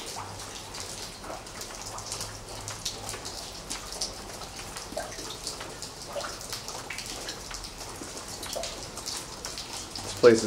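Rain dripping and pattering through a leaky staircase in an abandoned county prison, a steady wet drizzle of drops on hard surfaces continuing throughout with a low hum beneath and a sharper knock near the end.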